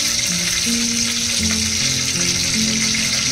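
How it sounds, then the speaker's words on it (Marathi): Curry leaves and mustard seeds sizzle steadily in hot oil, a loud, dense crackle held close for the whole stretch, with light stirring underneath and no voices. "कढीपत्ता टाकलाय, मोहरी टाकूया,"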